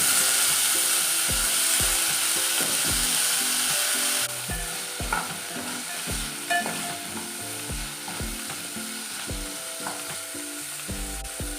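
Cut drumsticks stirred into a sizzling sambar base in a pan, with steady frying hiss under repeated spoon scrapes and knocks against the pan. No one speaks.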